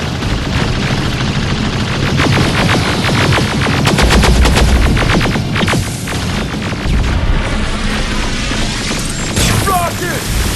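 Rapid bursts of automatic gunfire and booming impacts in the Terminator: Resistance video game, loud and continuous amid clanking mechanical noise, with voices shouting over the battle.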